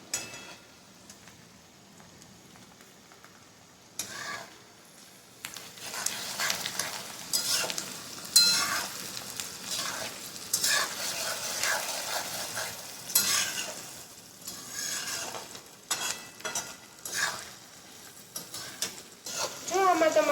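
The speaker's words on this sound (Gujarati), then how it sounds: "હવે ડુંગળી થોડી લાઇટ પિંક કલરની થઈ ગઈ છે ત્યારબાદ તેમાં ટામેટા એડ કરીશું" Tomatoes go into a pan of onions frying for Kathiyawadi khichdi, giving a steady sizzle with scraping stir strokes that swell and fade, and a voice talks over it at times.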